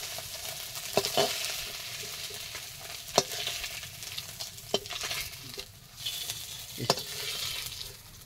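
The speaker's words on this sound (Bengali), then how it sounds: "এখন একটু তেলের উপর পাঁচফোড়ন দিয়ে দিলাম, পেঁয়াজ কুচি দিলাম। পেঁয়াজটা দিয়ে একটু নেড়ে নেড়ে নেব।" Panch phoron and chopped onion sizzle softly in hot oil in a pan, a quiet close crackle broken by several sharp scraping stirs of a spatula.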